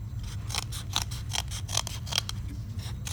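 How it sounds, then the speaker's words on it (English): Scissors snip repeatedly through a dental base on a face-bow transfer jig, a series of about eight short, crisp cuts in a steady rhythm, close by, over a low constant hum with no talking. "you can take just a pair of scissors, and I'm going to cut off just a little bit more of the base"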